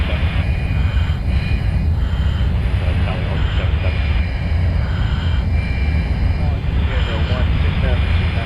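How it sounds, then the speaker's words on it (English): A steady, loud roar from the IFE F-35 jet's afterburner in Microsoft Flight Simulator runs continuously at close range, with a voice talking over it. "we'll bring in the afterburner once again"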